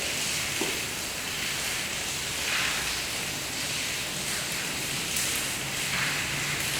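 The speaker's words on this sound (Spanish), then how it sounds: "comenzó a llover. Está pesado." Heavy rain pours steadily outdoors at night near an institute building, a dense, continuous hiss with no breaks and no voices.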